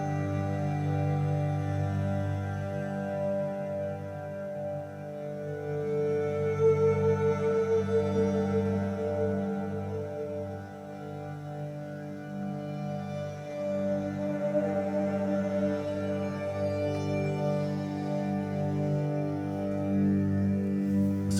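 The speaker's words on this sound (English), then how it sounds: "So what you're hearing right now is all cello." An album's opening track built almost entirely from layered cello, with low sustained bowed tones and a steady droning harmonic texture playing quietly throughout, with no talking.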